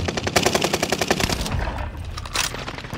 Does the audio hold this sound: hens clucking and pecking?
no